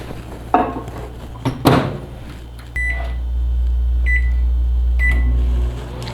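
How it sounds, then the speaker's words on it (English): A microwave oven heating milk hums steadily after a few clunks of a door closing and short beeps from its keypad. "put the milk in the microwave and heat it for 1 minute"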